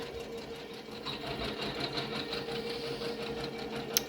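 An embroidery machine stitches out fringed fuzzy font letters, producing a fast, steady, fairly quiet mechanical chatter with a rhythmic needle pulse throughout and a small click near the end.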